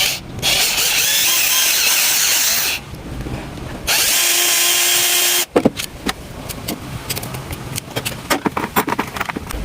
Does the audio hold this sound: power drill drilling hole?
yes